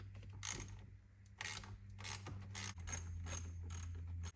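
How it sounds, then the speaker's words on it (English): A ratchet wrench works a 10mm bolt loose from a Jeep Wrangler steering wheel, its pawl clicking in several quick bursts of close, crisp ratcheting separated by brief pauses. "you've got access to your 10mm bolt."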